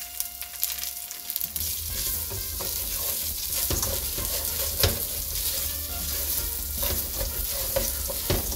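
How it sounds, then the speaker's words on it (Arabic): Rice frying with butter in a pan while being stirred, a steady close sizzle with scraping stir strokes and occasional sharper clicks, no voices. "خليوا الرز يتقلى شوية مع الزبدة"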